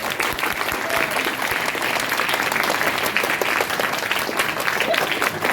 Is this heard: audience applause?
yes